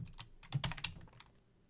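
Quiet, quick keystrokes on a computer keyboard while writing code in GameMaker, a short flurry of soft clicks tapping in an uneven rhythm before trailing off, with no talking.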